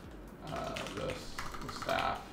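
Clicky computer keyboard typing in an indoor room, a steady run of fast keystrokes with short pauses, fairly close and moderately loud, with a faint voice underneath.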